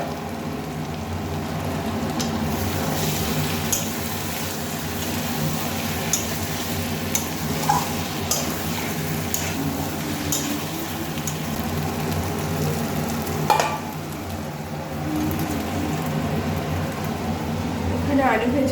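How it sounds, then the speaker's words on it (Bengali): Marinated chicken fries and is stirred in a pan, a steady sizzle with intermittent scraping and clinks of the spatula, under a speaking voice for much of the time. "এখানে মাংস কষানো চলছে"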